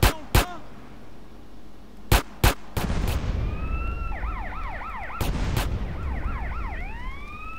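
Wailing police siren in GTA San Andreas rises and falls repeatedly over a dense, loud game soundscape, preceded by several sharp gunshot-like bangs.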